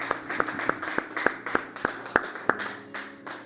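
A small church congregation claps in unison, a few sharp claps spaced at an even, rhythmic pace, fairly close, followed by a brief pause.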